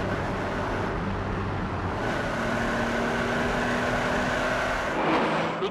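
Ferrari Testarossa V12 pulling hard under acceleration, a steady loud engine drone with a tone climbing through the revs and a brief shift near the end, heard from inside the car.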